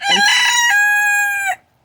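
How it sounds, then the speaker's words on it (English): A single loud rooster crow from one of two brother roosters, close by, rising into a long sustained call that cuts off after about a second and a half. "Those are my two, they're siblings, the brother roosters, Frit"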